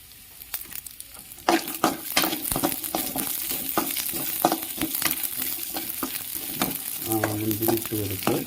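Raisins and crushed almonds frying and sizzling in a hot pan, with a steady close crackle, repeated stirring scrapes and clinks, and bursts of louder spitting near the end.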